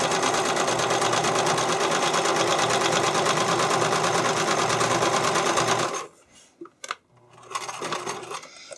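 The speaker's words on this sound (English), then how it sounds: "you get ready and you pull the fabric in both directions. You get it nice and taut, and then you sew your straight stitch" A sewing machine runs a straight stitch through spandex stretched taut, a loud, steady rapid whirring for about six seconds before stopping abruptly, followed by a few quieter clicks and handling sounds.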